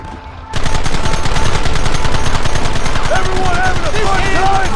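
Rapid machine-gun fire in the Red Dead Redemption video game kicks in after a brief quiet lead-in, a loud, close, steady stream of shots continuing to the end, with shouting voices over the barrage.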